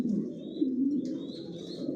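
Racing pigeons of a long-distance Johnson line sit brooding a pair of chicks in a loft nest pot, giving a soft, continuous low cooing close by with a few faint higher chirps, and no talk.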